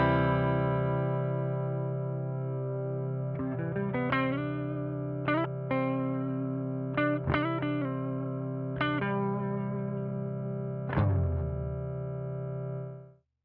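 Line 6 HX Stomp guitar multi-effects pedal running Helix 3.0, with a sustained, effected guitar chord held under a momentary footswitch while several sharp plucked stabs punch through, ringing alone and loud until it cuts off abruptly.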